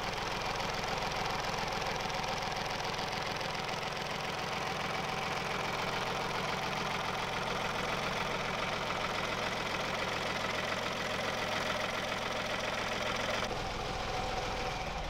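A Bukh marine diesel engine in a converted lifeboat idles as it warms up, a steady low knocking chug with an even rhythm, close and unbroken for the whole stretch.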